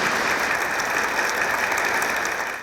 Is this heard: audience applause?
yes